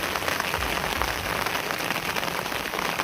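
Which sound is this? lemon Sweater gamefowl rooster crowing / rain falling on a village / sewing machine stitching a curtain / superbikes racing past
rain falling on a village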